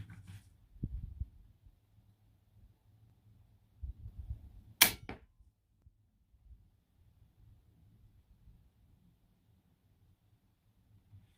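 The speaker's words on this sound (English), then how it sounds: "hopefully you guys hear the pop with these slugs here." An AirForce Condor .25 caliber air rifle fires a slug, giving a single sharp pop midway through a mostly quiet stretch with a few faint low thumps around it.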